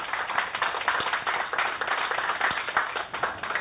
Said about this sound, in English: Just a warm round of applause for them.